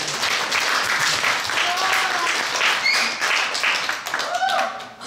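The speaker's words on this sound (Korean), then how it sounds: "박수." A church congregation at a Sunday service applauds, a dense spread of clapping that runs throughout with voices calling out over it.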